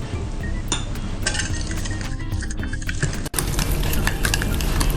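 Pancake batter of milk and flour being stirred in a bowl, a steady run of clinking and scraping from the utensil against the dish, close and continuous with no talking.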